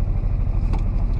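A truck engine pulling away in first gear on a steep hill, a steady, loud low rumble with wind buffeting over it, no voices.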